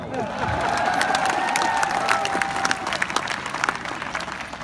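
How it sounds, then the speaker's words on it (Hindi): A comedy show audience in Sikar breaks into loud, dense applause with some cheering and shouts, sustained throughout and slowly tapering toward the end. "और आप लोग एक बार जोरदार तालियां बजाओ।"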